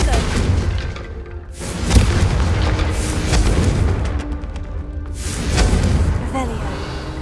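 Confringo blast spells explode in Hogwarts Legacy, a few booming thuds among game effects, with a player talking over them.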